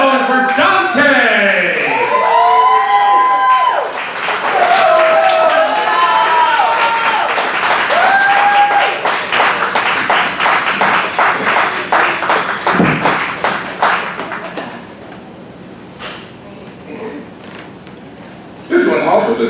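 Applause and cheers ring out from a crowd at a poetry slam in Dayton, Ohio, mixed with whoops, voices and an emcee talking, then thinning into scattered claps toward the end.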